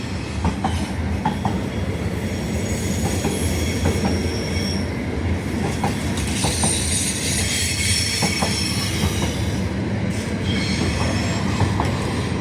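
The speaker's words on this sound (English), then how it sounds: "This train just doesn't end." A long train rumbles steadily past at close range through Midland Station on its last day of operations, wheels clattering and squealing on the rails throughout without a break.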